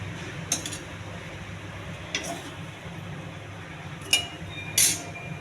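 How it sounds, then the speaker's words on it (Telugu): Fried ivy gourd, grated coconut and two green chillies go into a mixer jar for chutney, giving a few sparse, light clinks and knocks against the jar over a faint low hum. "మిక్సీలో వేస్తున్నాను."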